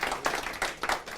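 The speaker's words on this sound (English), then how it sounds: "So round of applause for that." An audience giving a round of applause at a property investment gathering, several people clapping in uneven bursts, fairly close and moderately loud, brief and without voices over it.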